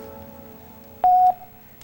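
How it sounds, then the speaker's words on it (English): A single answering machine beep sounds loud and steady for about a quarter second, clean and close, over a faint hiss of line noise. "Please leave a message after the beep"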